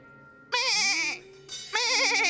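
A comedy performer imitates a goat on stage with two loud, wavering, nasal bleats separated by a short pause.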